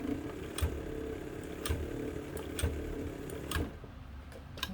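Kenmore 117.552 sewing machine running over leather, a steady mechanical hum with sharp regular ticks about once a second, close and even, stopping near the end.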